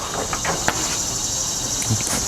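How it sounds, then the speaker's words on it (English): A constant high, shrill drone of Indiana locusts fills the air, steady and loud like a cicada chorus, with faint outdoor noises underneath beside an offset smoker. "You hear all the OG Indiana locust back there"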